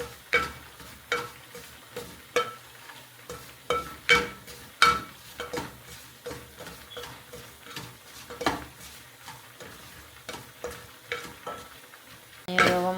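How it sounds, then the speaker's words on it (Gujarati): Semolina roasting in a pan is stirred with sharp, regular scraping strokes, about one every half second, close up with a faint background sizzle. "રવો શેકવાનું કામ છે."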